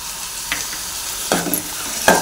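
Tomatoes with onion and masala paste fry in hot oil, giving a steady close sizzle punctuated by three or four scraping stirs of a spoon against the pan, with no voices.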